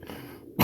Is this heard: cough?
yes